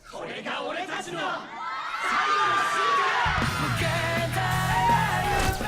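A dance competition audience cheers, yells and whoops as a crowd, with the roar building and staying loud and sustained. A low, steady musical rumble joins underneath about halfway through.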